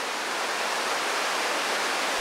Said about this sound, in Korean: 폭포와 계곡이 많아 어디서나 물 흐르는 소리가 들려오는 주황산.